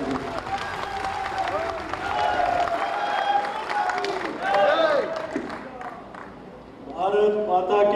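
A crowd at a Maharana Pratap birth anniversary gathering applauds and cheers as a BJP state president arrives, steady clapping swelling under a loud voice over a public address, with a fresh burst of applause near the end.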